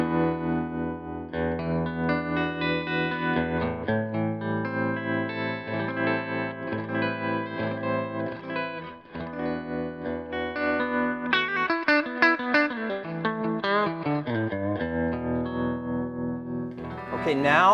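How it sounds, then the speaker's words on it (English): An electric guitar played through the bridge pickup into a Magnatone Twilighter amp rings out in sustained chords, then in a busier run of picked notes with chorus-like shimmer and echo, clear and upfront. "Okay, Jace, can I hear it just through the bridge pickup?"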